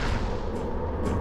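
A shotgun firing in a ray-traced boomer shooter game, a dense, booming low rumble of blasts filling the short moment, loud and close with no talking.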